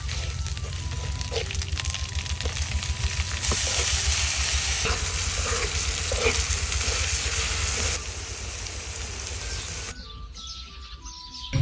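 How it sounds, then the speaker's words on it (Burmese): Green chili and fish paste (ngapi) fry in a pan with a loud, continuous sizzle and occasional stirring. Birds chirp faintly in the background and the frying quiets near the end. "ဒါလေးကတော့တရက်ဖူးတိုးစရာလေးနဲ့တွဲဖို့အတွက်ငရုတ်သီးစိမ့်ငပိကြော်လေးကြောနေတာပါ"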